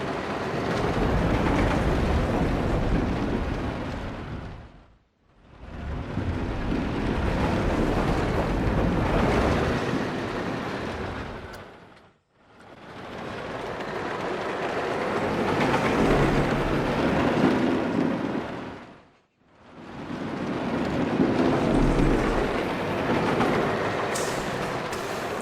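A roller coaster POV ride in the video game Planet Coaster, with loud rushing, rumbling track and wind noise that swells and fades in long surges, separated by brief near-silent pauses.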